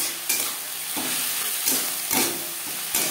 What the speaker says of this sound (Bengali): পেঁয়াজ টমেটোর সাথে বেশ ভালো করে মিক্স করে দেব।